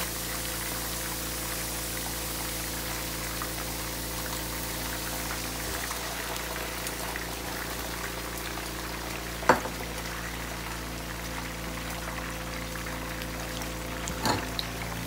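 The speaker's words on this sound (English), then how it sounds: "I added one cup of water" A cup of water poured into Escovitch sauce for red snapper, a steady splashing, sizzling pour that runs continuously and fairly loud, with a couple of brief clinks near the end.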